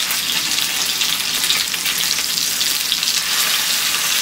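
Fish coated in masala fries in a pan with a loud, dense, steady sizzle that holds even for the whole stretch, with no voice over it.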